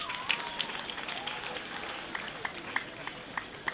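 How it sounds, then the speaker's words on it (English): Students applaud themselves at a school farewell gathering honouring a departing head teacher. The clapping is faint and scattered, with distinct claps popping out over a steady room murmur throughout. "Clap for yourself."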